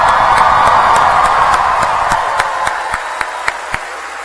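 Audience applause at a 2016 high school graduation ceremony honoring varsity baseball seniors, a dense sustained wash of many hands clapping that thins toward the end into a few distinct, louder individual claps.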